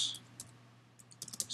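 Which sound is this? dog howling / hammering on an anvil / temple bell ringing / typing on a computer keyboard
typing on a computer keyboard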